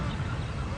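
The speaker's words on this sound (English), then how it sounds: "we're sitting with the pod of Egyptian geese" Brief, harsh honking calls from a group of Egyptian geese, close by and overlapping in a short burst.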